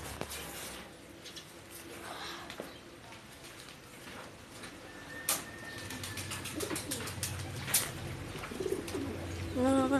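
Pet pigeons coo softly in the background while someone talks over them, with occasional wing flutters, clicks and shuffling nearby.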